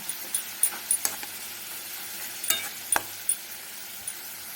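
Radish and dried fish curry cooks in a pan after a splash of water, a soft continuous sizzle with scattered light clinks and stirring taps from a utensil, no talking.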